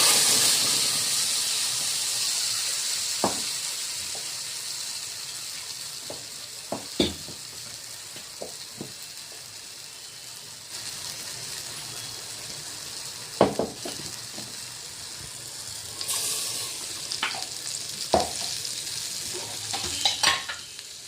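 Spice paste hits hot oil already crackling with cumin, a soft background sizzle punctuated by sharp clinks and scrapes of a spoon stirring the pan, with a louder hiss flaring up near the end.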